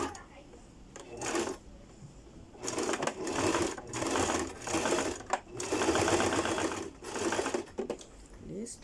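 A sewing machine stitches over a seam on a princess-cut bodice, running in loud whirring bursts separated by short pauses, close to the microphone.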